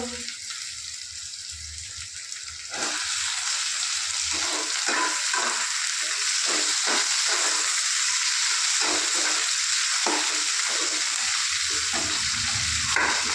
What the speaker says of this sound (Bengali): এই যে পেঁয়াজটা একটু ভাজা ভাজা হয়েছে, এরপরে টমেটোটা দিয়ে দেবো।